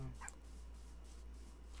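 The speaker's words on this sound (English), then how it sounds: "Is that a dog?" Dog in the video game Minecraft giving a quick, faint bark or yip over a low steady hum, brief and distant.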